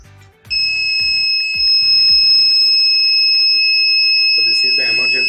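A steady high-pitched electronic beep from a paralysis patient health monitoring device with an MPU sensor, triggered by hand gestures, sounds continuously for several seconds, loud and close, after some brief low thumps; faint voices near the end.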